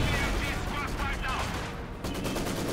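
A machine gun position in Company of Heroes 2 comes under shelling, with dense rattling gunfire and blasts over a continuous battle din and a brief dip before the firing resumes.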